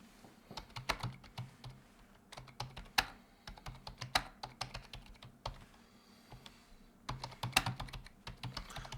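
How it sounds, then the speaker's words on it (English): Typing on a computer keyboard fills the clip, with irregular bursts of quick clicky keystrokes, close and fairly quiet, with brief pauses and no voices. "I'm typing. I enjoy to type."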